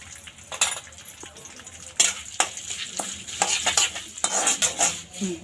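Mustard seeds tossed into hot oil with curry leaves crackle and sizzle in a pan, with steady scraping and clinking of a spoon stirring throughout, close and fairly loud.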